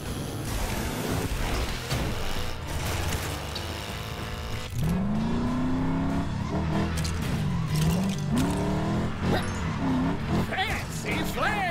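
Car in the LEGO 2K Drive racing game speeds up with boost, its engine tone sweeping upward in pitch and roaring steadily over busy game music and effects.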